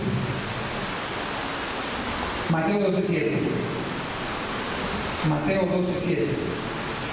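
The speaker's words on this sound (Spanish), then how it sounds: "La lluvia no lo deja escuchar." Steady broadband hiss of rain falling on an outdoor church service, constant and fairly loud beneath a preacher's voice speaking in Spanish in two short bursts.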